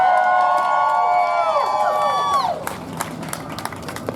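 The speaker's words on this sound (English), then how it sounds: "I want to hear you give yourselves a round of applause and make some noise." Crowd at an outdoor anti-mask protest claps and cheers, scattered applause and shouts rising after a sustained musical tone fades out, moderately close and lively.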